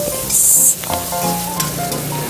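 Chopped onion and tomato sautéing in a pan, a loud sizzle with a sharp hiss burst near the start, then spatula scrapes and stirring clatters against the pan, no talking.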